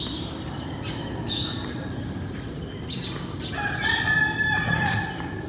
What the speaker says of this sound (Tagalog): Tilaok lang ng manok ang naririnig.